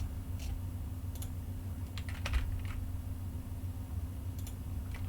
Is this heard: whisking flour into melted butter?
no